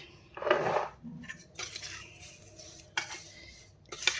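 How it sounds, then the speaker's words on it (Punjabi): Spices being stirred into a raw turmeric pickle: a metal spoon clinks and scrapes against a pot or bowl in a few scattered, close but fairly quiet strokes, with no talking. "ਇਹ ਸਾਰੇ ਮਸਾਲੇ ਆਪਾਂ ਇਹਦੇ ਚ ਪਾ ਲੈ ਇਹਨਾਂ ਨੂੰ ਅੱਛੀ ਤਰ੍ਹਾਂ ਆਪਾਂ ਹਿਲਾ ਲੈਣਾ"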